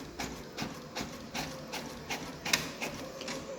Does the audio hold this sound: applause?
no